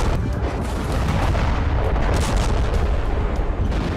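Continuous heavy rumbling bombardment over Hamas positions in Gaza, dense low booms blending into a steady roar with no pause, loud and distant-sounding throughout.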